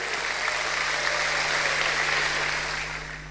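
Church congregation applauding during a sermon, a full, sustained burst of clapping at moderate loudness over a low steady hum, fading slightly at the end.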